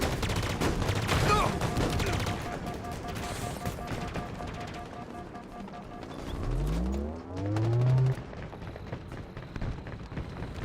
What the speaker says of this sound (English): I just don't like these alien guns.